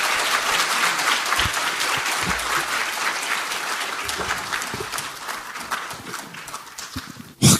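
Audience at a political party academy event gives sustained, energetic applause, a crowded patter of claps with scattered sharp knocks, fading near the end before a sudden loud burst.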